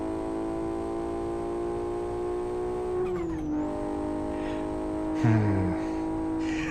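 A modded car in the Live for Speed racing game holds a loud steady engine note, then the revs drop, climb and drop again with a brief skid-like burst late on; nobody talks.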